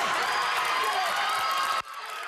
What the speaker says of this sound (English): The courtroom broke out in tears and screams and applause when the jury came back with guilty verdicts on all 4 counts